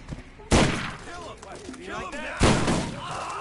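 Two heavy shotgun blasts in Borderlands, loud and sharp, spaced about two seconds apart, with a voice talking between them.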